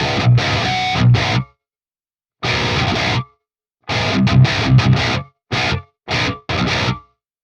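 A heavily distorted electric guitar plays through a Fortin Nameless Suite X amp simulator with the noise gate at -80 dB: chugging palm-muted bursts and stabs with sharp stops and dead silent gaps between phrases. The playing is loud and close, with no talking.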